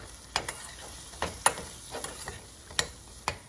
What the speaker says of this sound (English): we're just going to stir it well so that we can incorporate it